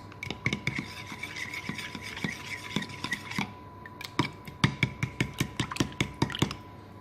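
Egg whisked into doughnut batter in a bowl, a rapid run of scraping, rubbing strokes close by, briefly pausing before resuming more vigorously.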